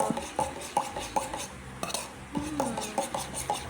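A spoon stirs a milky avocado drink in a glass, clinking against the sides in a quick, regular rhythm of light taps with short pauses between strokes.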